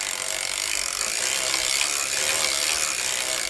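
A circular sock machine is cranked steadily, giving a continuous, close ratcheting and clicking mechanical whir that runs without pause throughout.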